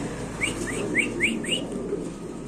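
Pigeons at a busy bird market call in a quick run of five rising chirping notes over a constant murmur of crowd noise.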